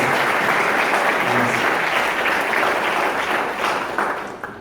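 A church congregation applauds together in a steady, dense wash of clapping that holds loud and even for several seconds before thinning slightly near the end.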